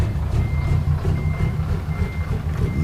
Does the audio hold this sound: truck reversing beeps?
yes